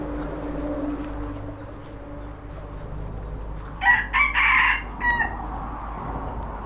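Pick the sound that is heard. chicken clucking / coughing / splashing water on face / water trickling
chicken clucking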